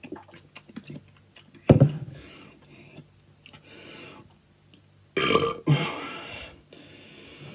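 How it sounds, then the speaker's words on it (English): Burping after a guzzle of Hobgoblin Ruby beer, two distinct belches, the first short and the second longer and louder, close to the microphone, with faint swallowing and handling noise between them. "But you've missed them burps, haven't you?"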